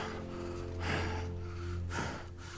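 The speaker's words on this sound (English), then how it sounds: "we're going to start minute 46 with Thade panting" An ape character in a Planet of the Apes film pants heavily, with a couple of sharp, breathy gasps over a steady low rumbling soundtrack, with no speech.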